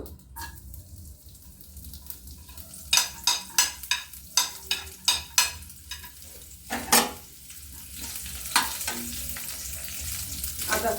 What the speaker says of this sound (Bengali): তেল আমার এই একটু চামচ মতো তেল আছে এতে আমি রসুন কুচি দেবো